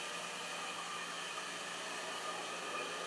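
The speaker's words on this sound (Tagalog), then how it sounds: "Tapos sa blow dryer." Blow dryer drying freshly cut hair after a pixie cut, a steady, even airy rush that holds constant throughout without a break, fairly quiet and with no one talking over it.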